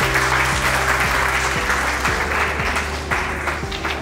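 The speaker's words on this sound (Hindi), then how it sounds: "तो एक बार जोरदार तालियां तो मारो।" Sustained audience applause fills a hall during an award ceremony, with dense steady clapping throughout, heard alone without talk.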